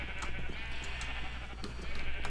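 A Minecraft sheep bleats amid game ambience, a few short wavering bleats over a steady background hiss, no talk.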